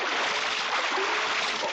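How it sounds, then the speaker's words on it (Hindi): Water splashes and pours in a steady broadband wash with no pause, loud and close, staged as a radio drama effect of water thrown over someone from a boat. "थोड़ा सा पानी डाल दूं।"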